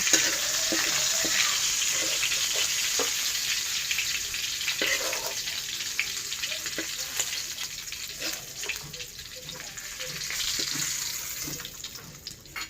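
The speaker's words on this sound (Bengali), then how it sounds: "আর চিংড়ি মাছটা ভাজা হয়ে গেছে, এবার আমি চিংড়ি মাছটা তুলে নেব।" Shrimp frying in hot oil in a pan give a steady, close crackling sizzle that runs the whole time with scattered pops and light clinks, and no one speaks.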